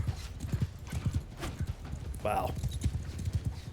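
Cavalry horses gallop with rapid, close clip-clop hoofbeats, and a high neigh rises briefly in a medieval battle in Mount & Blade II: Bannerlord, while someone speaks over the action.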